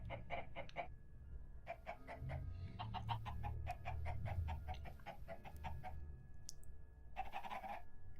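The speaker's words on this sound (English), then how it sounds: "Oh, those chickens are noisy." Minecraft video game chickens cluck in rapid, repeated bursts nearby, a busy stream of clucks over a low background hum.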